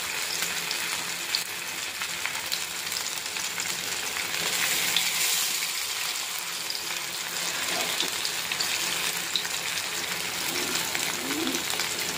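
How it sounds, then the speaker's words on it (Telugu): Apollo fish pieces dropped into hot oil, a dense, steady sizzle and crackle of frying that stays close and even for about twelve seconds, with no talking. "అంతలోపల ఆయిల్ కూడా కాగిపోయింది. ఫిష్ వేసుకోవాలి."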